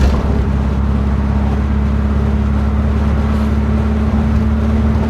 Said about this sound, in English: I don't know if you heard the gear change, that was clutchless.